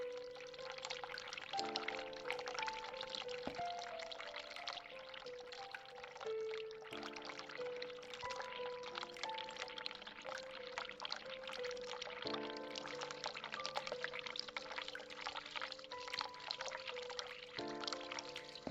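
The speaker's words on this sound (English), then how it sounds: "Is it going to be the same if I run the hot water again?" Hot water runs from a tap in the video game The Cat Lady, a steady pouring wash with no break, layered over sustained tonal game music throughout.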